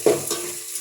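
Potato rice is stirred in a frying pan with a quick scraping stroke over a faint sizzle, lasting under a second.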